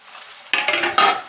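Onion frying in a pan with a little salt, a soft sizzle jumping up as stirring begins, with two loud close stirring scrapes over the hiss.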